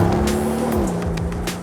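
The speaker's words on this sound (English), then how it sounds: "because it's still got that big 4-litre twin-turbo V8, it sounds good" Lamborghini Urus SE with its 4-litre twin-turbo V8 revving hard under load, a steady loud engine drone that shifts pitch partway through, with brief tyre squeal, close and continuous with no talk.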